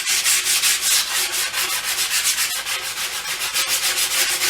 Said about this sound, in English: I'm just going to take 120 grit sandpaper, just make sure all my radius is